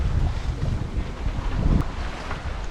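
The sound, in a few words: wind while offshore sailing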